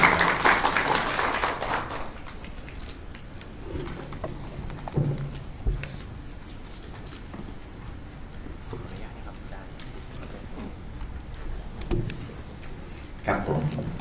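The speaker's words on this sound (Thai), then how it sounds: "ปรบมือให้อาจารย์นะครับ" Audience applause for a lecturer at a seminar on universal basic income and welfare-state proposals, loud and dense for about two seconds before quickly fading into a quieter room with scattered murmurs and faint voices.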